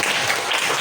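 A classroom group claps together briefly, a loud, dense burst of hand clapping that lasts under a second.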